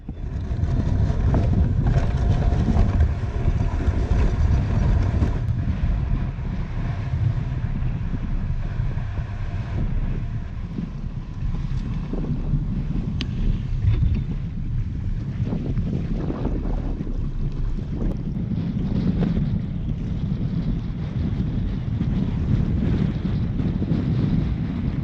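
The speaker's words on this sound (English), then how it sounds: "in case you can't tell, it is super windy" Strong wind buffets the microphone while kayaking, with a continuous heavy roar and gusty rumble and faint water sounds beneath, and no talking.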